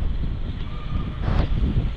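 Strong cold wind in Quy Nhon, Vietnam roars and buffets close by, a dense low rush with gusty surges.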